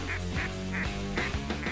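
Several ducks quack in a close, loud, repeated series of calls over a short stretch, with no talk.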